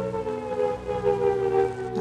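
An air raid warning siren wails steadily, a loud, sustained rising and falling tone with strong harmonics, heard alone without voices for the full stretch.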